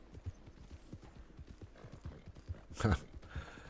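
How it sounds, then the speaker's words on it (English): A horse gallops in the Red Dead Redemption 2 video game, with rapid, rhythmic hoofbeats, fairly quiet, and a short whinny or snort near the end. "So we're gonna push this poor horse a little bit."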